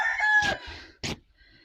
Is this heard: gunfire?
no